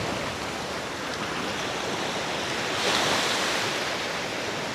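Ocean surf breaks and washes in the shallow surf zone of an Alabama beach, a steady broadband roar with a slightly louder swell midway, no voices.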